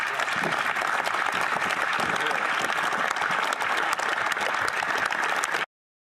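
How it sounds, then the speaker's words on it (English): Steady, dense audience applause at a political event, loud and sustained for about five and a half seconds before cutting off abruptly, with faint voices mixed into the crowd noise. "I don't think that applause was planned."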